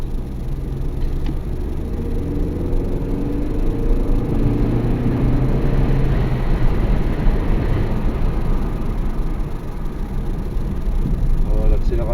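A stage 1 tuned Hyundai Veloster accelerates along a small country road, its engine a steady, loud low drone with rising tone under road and wind noise, while a person talks over it.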